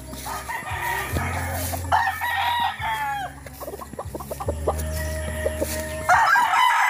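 Several broodcock roosters on a farm crow in turn, loud and close, with clucking from hens in between and no talking.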